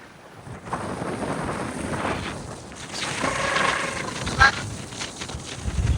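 Desert wind gusts across an open, sandy expanse and buffets the microphone with a rough, rumbling roar that swells and eases over several seconds.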